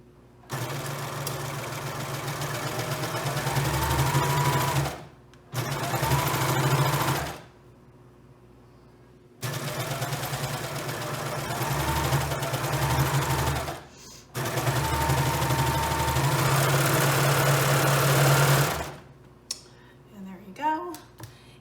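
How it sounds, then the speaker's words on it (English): A sewing machine runs a quarter-inch seam in several loud, steady bursts of rapid stitching, each a few seconds long, separated by short pauses, with soft handling noises between runs. "I am going to sew these together with a 1/4 inch seam allowance"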